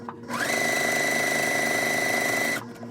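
A sewing machine stitches quilt pieces along a drawn line in one steady, continuous run of a few seconds, starting and stopping cleanly, close and fairly loud with no talking.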